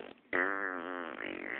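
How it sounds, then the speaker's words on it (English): A cartoon fart sound effect, a short sputter followed by a long, buzzy, wavering tone that stretches on for over a second, loud and close with no talking over it. "Face the fury of my farts."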